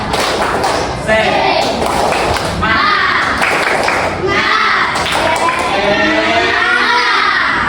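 Class of children at a primary school doing the tepuk semangat clapping routine, a steady run of rhythmic group claps and thumps with children's voices and a teacher calling out over them throughout.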